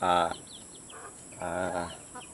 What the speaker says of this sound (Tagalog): mga alaga nating manok